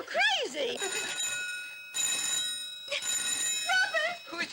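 A telephone-style doorbell rings in a 1960 film scene, sounding as bright trilling bursts that sit between frantic shouting voices.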